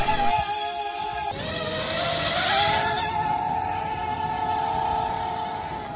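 A homemade mini racing drone flies outdoors, its motors giving a steady, loud buzzing whine whose pitch wavers as it manoeuvres, continuous for several seconds.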